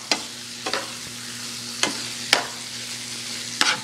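Chicken and vegetables fry in olive oil under a steady low sizzle, with five or six brisk scraping stirs of a utensil against the pan at irregular intervals, close up and without talking.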